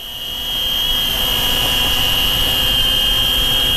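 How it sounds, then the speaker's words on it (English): A Syma X25W optical-flow quadcopter drone hovers just after takeoff, its steady high-pitched rotor whine and motor buzz rising within the first half second and then holding constant and close. "We've got a bit of a gentle hover here."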